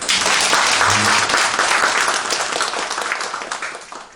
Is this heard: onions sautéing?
no